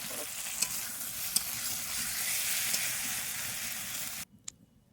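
Water hits a hot pan of fried potato, brinjal and kochurmukhi (taro) for a Bengali curry, raising a loud steady sizzling hiss with a few sharp clinks, then cutting off abruptly into near silence near the end.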